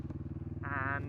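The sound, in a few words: motorbike running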